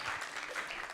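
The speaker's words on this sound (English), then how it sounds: "round of applause for that." An audience at an African media leaders' summit applauds in a brief, dense patter of clapping hands that is steady and moderately loud with no voices over it.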